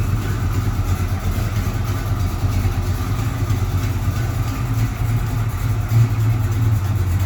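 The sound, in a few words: 1987 Chevrolet S10 V8 engine running, pulling out of garage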